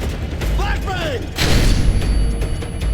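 Flashbang grenade detonating in Modern Warfare 3 during an underground combat scene, a loud, bright burst that rings on under rumbling gunfire and game noise, with a shouted voice just before it.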